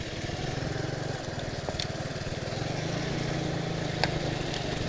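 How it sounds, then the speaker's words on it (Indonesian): A water pump engine chugs steadily at the source of the Bogowonto River on the slopes of Mount Sumbing, a low, continuous motor drone heard at moderate distance with faint outdoor ambience. "Ada suara mesin pompa air."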